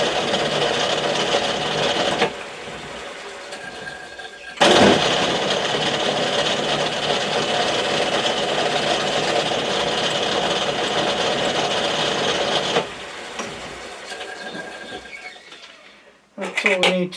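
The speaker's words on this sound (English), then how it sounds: "This is a clearance drill going through here" A clearance drill boring a 1/8-inch hole through a small metal part for a Gauge 1 live steam scratch build, a steady close grinding hiss with brief pauses and a voice speaking partway through.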